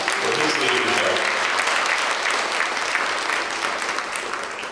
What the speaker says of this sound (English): Another applause for him for his leadership.